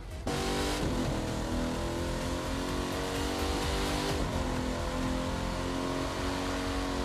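A car engine revs in the video game The Crew 2 with a loud, continuous, close roar, pitch sweeping up and down through gear changes, with no talking.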